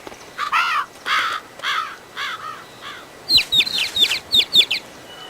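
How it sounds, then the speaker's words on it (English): Crows cawing in the video game Billy Hatcher and the Giant Egg: a run of loud, harsh caws, then a quicker, higher cluster of squawks, heard close and clear with no talk over them. "Those crows fuck him up."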